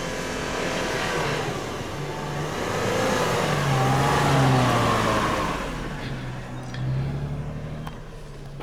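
A 4WD vehicle on the sandy Border Track between The Pines and Red Bluff, engine growing louder as it approaches, swelling past nearby and then receding, with a second engine surge near the end.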